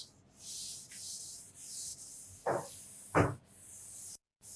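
A board is rubbed or wiped in a biology classroom in a series of dry, scratchy swipes, with two dull knocks near the end and no talk over it.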